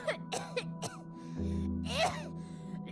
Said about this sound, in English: She really sold that cough.